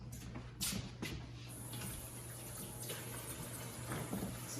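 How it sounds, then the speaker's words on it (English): Hands washed under a running kitchen tap, a steady close stream of water with faint splashing shifts as the hands move beneath it. "first thing to do before you ever cook anything is let's wash our hands"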